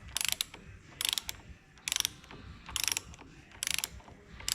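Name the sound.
torque wrench clicking while tightening hydraulic pump bolts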